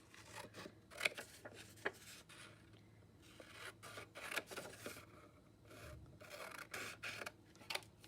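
Scissors snip through paper to cut out a neck shape, giving quiet, close, irregular crisp cuts and rustles with brief pauses between strokes.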